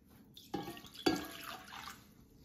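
Water is poured into a container while making homemade slime, a soft splashing trickle with a couple of sharper splashes, close and fairly quiet.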